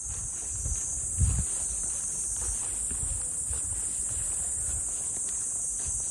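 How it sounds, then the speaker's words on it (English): A constant high-pitched buzz of cicadas fills the background on a quiet road near Heian Shrine in Kyoto, unbroken and steady, with faint footsteps and low rumbles beneath. "quiet except for the cicadas, which you can probably hear in the background"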